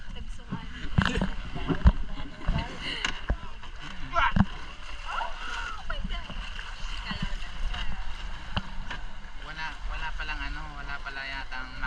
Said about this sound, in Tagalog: Disagwan lang para hindi ma-storbo siguro yung whale shark.